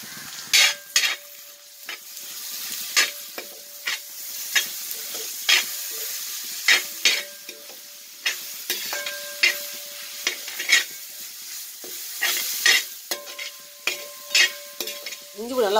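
Ginger and garlic fry in a pan for country chicken biryani, a steady sizzle broken by frequent sharp scrapes and clacks of a stirring spoon against the vessel, close and fairly loud throughout.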